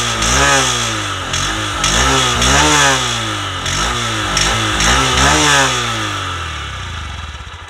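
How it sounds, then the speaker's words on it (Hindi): A 2022 Honda SP125 motorcycle's exhaust note, heard close and loud as the engine is blipped repeatedly in quick revs, each rising and dropping back, before settling to a lower idle. "अभी मैं आपको सुना देता हूँ SP125 का एग्जॉस्ट नोट।"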